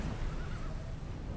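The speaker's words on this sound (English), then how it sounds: "Yo, a horse?" A horse whinnies in the Final Fantasy XVI video game, a drawn-out neigh over a dense, rumbling game soundtrack.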